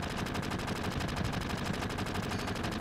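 Rapid automatic gunfire from the video game Final Fantasy VII runs in an unbroken, evenly paced burst, loud and close from start to finish with no talking over it.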